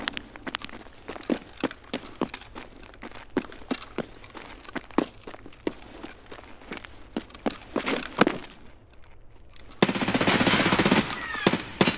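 Automatic gunfire in the shooter game Escape From Tarkov, a long run of rapid, sharp bursts firing close and loud, then a sudden switch to a dense, hissing wash of noise near the end.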